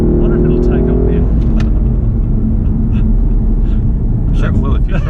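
Loud engine of a 2017 Ford Mustang revving on a test drive, deep rumble rising and holding, with people talking over it inside the car.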